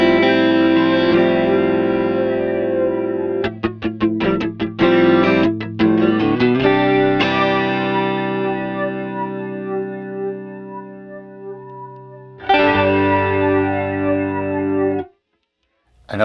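Guitar through a Strymon TimeLine MX delay pedal, its repeats pulled back from self-oscillation, rings in layered sustained notes with dense echoing trails and a swelling, distorted wash before cutting off abruptly.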